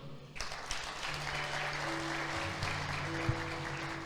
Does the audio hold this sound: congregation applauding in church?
yes